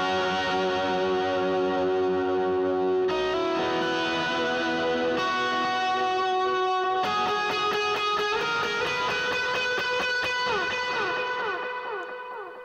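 An electric guitar plays the pre-chorus riff of a song through effects, with sustained delayed and chorused notes ringing over one another, growing brighter and busier as the riff moves up, all instrumental with no talking.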